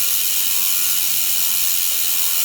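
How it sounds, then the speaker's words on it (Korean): A freewheeling rear hub on a gravel bicycle, likely a high-engagement 72-point ratchet, buzzes as the wheel spins, a dense rapid clicking that blurs into a continuous close-up whir with no talking. "이 라쳇이 개수가 적으면 페달을 돌릴 때 바로 출발하지 않고 약간"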